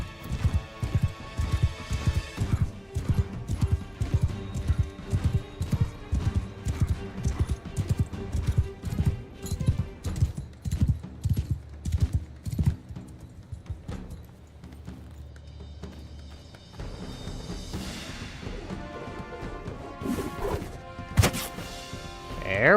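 Horse hooves clop in a steady rapid rhythm in the video game Mount & Blade II Bannerlord, loud and close, with thwacks and clashes of combat breaking in and the galloping easing off near the end.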